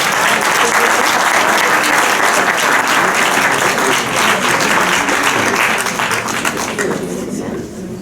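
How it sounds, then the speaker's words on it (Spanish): An audience at a homeopathy medical school lecture applauds to welcome a speaker, dense continuous clapping from many people that fades toward the end, with some voices mixed in. "Le pido que empecemos con aplausos, por favor."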